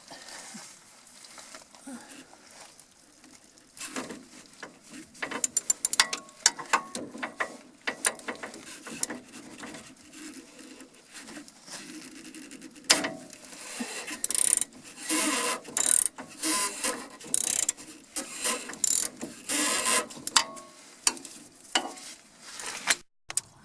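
Metal wrench ratcheting on a sway bar bushing bolt of a Dodge van, irregular clicking and clanking bursts that grow louder and busier midway, close by with faint talk underneath.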